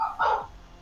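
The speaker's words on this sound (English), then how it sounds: "Puke is barking at the Tyranitar." A dog gives one short, sharp bark, close and fairly loud, followed by a brief quiet tail.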